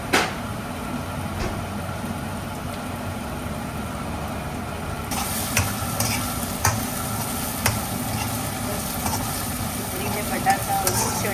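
Onions and potatoes frying in oil for batata poha, a continuous loud sizzle with stirring scrapes that grows brighter and crackly halfway through, with a low hum underneath.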